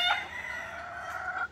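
Chickens kept as gamefowl give a single close, loud, drawn-out call that sounds more like a crow than a cluck, lasting about a second and a half with no voices.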